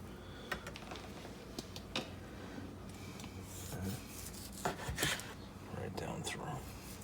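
A knife slices through a smoked turkey breast cooked on an Oklahoma Joe Bronco smoker, giving soft, close rasping and rubbing strokes in several short passes.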